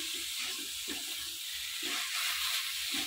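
Carrot halwa stirred and cooking in a pan, a steady close hiss of sizzling with soft scraping pulses from the spoon, no talk.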